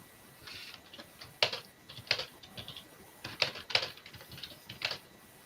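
Computer keyboard typing in irregular bursts of sharp key clicks, close and fairly quiet, with short pauses between clusters of keystrokes and no voices.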